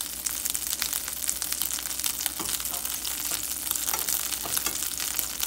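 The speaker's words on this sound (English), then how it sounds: "I'm gonna put some butter in there. And you have to make sure it's getting super hot" Butter sizzles steadily in a very hot pan before ahi tuna steaks go in, a dense, continuous frying hiss with small crackling pops, close and unbroken throughout, with no talking.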